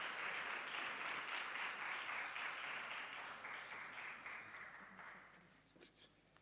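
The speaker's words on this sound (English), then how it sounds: "Ladies and gentlemen, let us give him the hand of applause as Dr. Yanga is coming forward." Audience applause at a seminar hall event as a doctor comes forward, a broad wash of crowd clapping heard at a distance and fairly faint, steady at first and gradually fading out.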